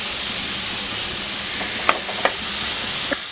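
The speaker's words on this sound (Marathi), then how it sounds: "जिरं तडतडलंय, कांदा घालूया," Onion goes into oil where cumin has already crackled, for a chicken gravy, giving a loud, steady close-up sizzle with a few sharper pops and crackles near the end.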